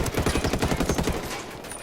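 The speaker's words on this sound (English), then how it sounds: "I just go guns a-blazing, use my unsuppressed weapon" Unsuppressed weapon gunfire in Ghost Recon Wildlands, a fast burst of loud, evenly spaced shots ringing close before trailing off into a lingering echo.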